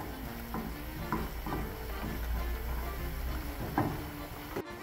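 A butter and flour roux for fettuccine Alfredo bubbles and sizzles gently in a pan, a soft continuous frying hiss with a few light stirring scrapes and one sharp knock near the end.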